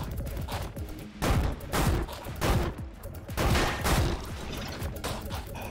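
Dense, continuous gunfire in the sci-fi platformer shooter Orbital Bullet arrives in loud, overlapping bursts of rapid shots that barely pause, filling the whole stretch.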